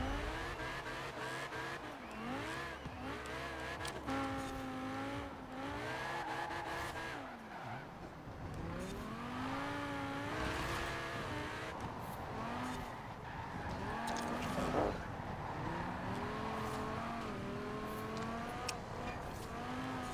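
A rear-wheel-drive car racing in Forza Horizon 4 revs hard through rising and falling engine sweeps as it shifts gears, with tire squeal and skidding mixed in, loud and continuous all the way through.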